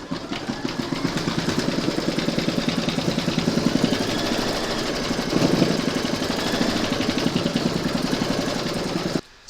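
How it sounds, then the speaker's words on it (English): An embroidery machine stitches the cherry stalks of an in-the-hoop cherry coaster, giving a steady, rapid, rhythmic mechanical clatter that runs close and continuous for the whole stretch with no talking. "Load an appropriate colour for the cherry stalks into your machine, and then you're going to stitch round number 11."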